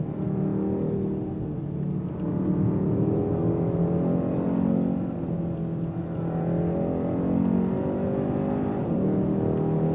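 A 2024 Hyundai Sonata N Line engine accelerates steadily with a smooth, rising hum, easing off and building again through the gears, heard from inside the car with no talking.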